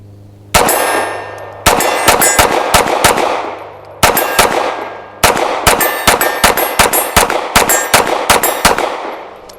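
Rapid pistol fire from an Arsenal Strike One hitting a steel target, loud close shots each followed by a ringing metallic clang, in several quick strings with short pauses between.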